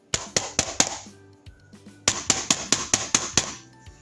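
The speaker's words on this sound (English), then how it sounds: "But then a knock came to the door." Two quick bursts of sharp knocking, four raps then about eight more after a pause, loud and close with crisp, evenly spaced hits.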